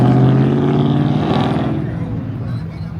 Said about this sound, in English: Got a couple more Chargers rolling in. We got Hellcat. I hear that whine.